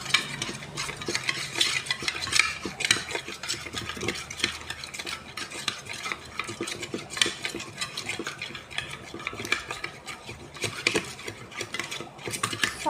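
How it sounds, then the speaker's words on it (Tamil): A sugar mixture is stirred briskly in a container for homemade slime, producing continuous rhythmic scraping and gritty swishing with light clinks, close and steady throughout. "நல்லா மிக்ஸ் பண்ணிக்கோங்க"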